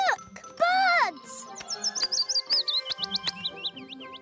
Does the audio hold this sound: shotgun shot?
no